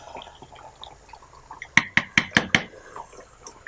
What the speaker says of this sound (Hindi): अब इसके ऊपर ढक्कन रखेंगे ताकि ये पानी खुश्क हो जाए